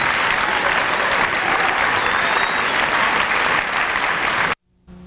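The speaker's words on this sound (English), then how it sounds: "One more round of applause for" Loud, dense audience applause fills a school bridging ceremony hall, steady and sustained for several seconds before cutting off abruptly into near silence.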